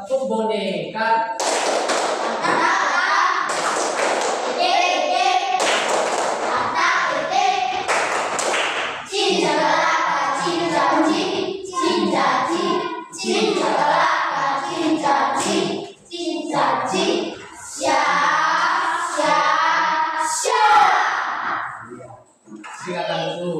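Classroom children perform a rhythmic clap chant, their sharp hand claps ringing out in patterned bursts mixed with sung and chanted voices, loud and close throughout.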